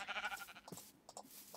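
Sheep bleating in the Minecraft video game, a few short bleats early on followed by fainter clicks and game sounds, moderately loud and close.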